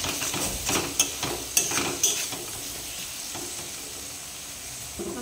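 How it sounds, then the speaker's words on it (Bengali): Masala with chopped tomato sautéing in a pan for a fish curry, a continuous close sizzle broken by a few scraping stirs and light clatters early on, then settling into an even hiss, with no talking. "মশলাটাকে ভালো করে কষিয়ে নেব।"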